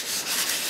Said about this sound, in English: so we can finish sand it